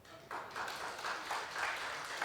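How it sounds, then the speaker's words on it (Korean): A church congregation at a Baptist Sunday morning service gives a short round of applause, a brief wash of many hands clapping at moderate volume in a reverberant hall. "우리 방송실에 일한 분 박수 한번 쳐줍시다."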